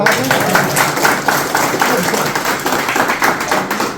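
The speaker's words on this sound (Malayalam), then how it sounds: "രണ്ടുപേർക്കും നല്ലൊരു ക്ലാപ്പ് കൊടുക്കാം" Audience in a live brain-game stage show applauds two participants, a dense steady patter of many hands clapping close and loud for the full length, with faint voices beneath.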